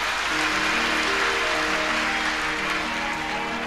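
Crowd applause at a Hindi religious discourse, a dense steady wash of many hands clapping throughout, fairly loud and continuous with no talk over it.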